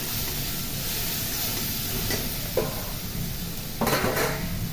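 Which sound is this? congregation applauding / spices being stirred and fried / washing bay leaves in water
spices being stirred and fried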